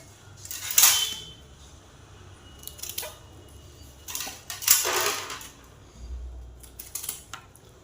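A knife cuts cabbage into small pieces in a few separate bursts of crisp chopping and crunching, close by, with quiet pauses between and no talk.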